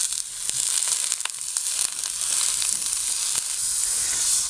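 Pot roast browns in a hot skillet with a steady, loud sizzle and hiss close by, broken by faint crackles and pops throughout.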